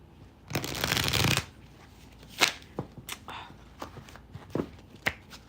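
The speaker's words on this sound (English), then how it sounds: "Let me just shuffle these." Tarot cards being shuffled by hand, a dense riffling burst followed by a series of sharp separate card taps and snaps, close and clear with no talking.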